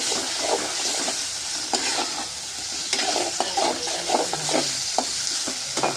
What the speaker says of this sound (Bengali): এবার এগুলোকে সুন্দর করে ভাজা ভাজা করে নেব।